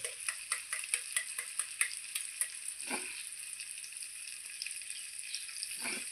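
Eggs crack into a hot pan for a village-style Kerala egg stir-fry, with a run of quick clicks and taps followed by soft sizzling and a couple of stirring scrapes, close and moderately quiet with no talk.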